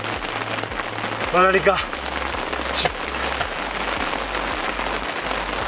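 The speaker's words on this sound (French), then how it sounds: "il y a la pluie qui vient juste d'arriver" Rain starting to fall on a carp-fishing bivvy beside a reservoir, a steady dense patter and hiss throughout, with someone speaking briefly and a sharp knock partway through.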